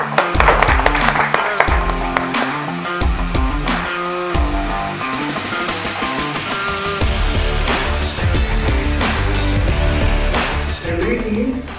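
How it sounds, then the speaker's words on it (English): Student audience at an EV Challenge event breaking into loud applause, dense clapping that swells and continues for several seconds, with a voice speaking over it in places. "Give a round of applause to all of you for being here."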